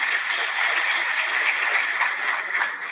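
Steady applause from an audience, a dense patter of many hands clapping evenly throughout.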